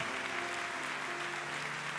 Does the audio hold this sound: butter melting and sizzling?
no